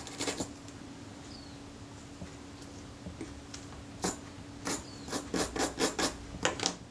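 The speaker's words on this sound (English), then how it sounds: "just attack that with the wire brush to remove any corrosion" A wire brush scrubs corrosion off a small metal part from a Retina IIa camera, with quiet scattered strokes at first and then a quick run of close, crisp rasping scrubs.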